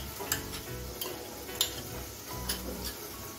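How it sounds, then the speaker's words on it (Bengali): Onion paste fries in a pan over a medium gas flame with a constant low sizzle, while a utensil scrapes and taps in a loose, repeating rhythm about every half second. "পেঁয়াজ পেস্টটাকে আমি গ্যাসটা মিডিয়ামে রেখে 2 মিনিট ভেজে নেব"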